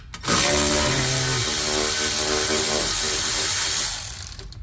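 A ratchet loosening 8mm bolts on the differential cover of a 2020 Mercedes GLE 350 4MATIC W167, a close, rapid clicking that runs steadily for several seconds, then fades.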